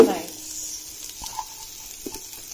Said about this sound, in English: I'm adding onions.